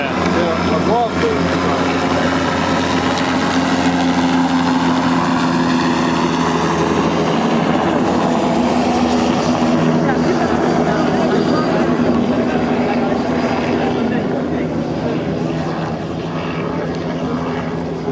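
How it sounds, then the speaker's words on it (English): A helicopter flies over Rio de Janeiro with a steady, loud rotor and engine drone that holds throughout, with people talking over it. "This is what the helicopters do"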